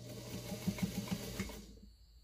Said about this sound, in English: this is straight stitch reverse,